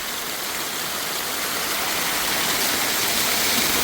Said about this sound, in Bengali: পাহাড় থেকেই ঝর্ণাটা পড়ছে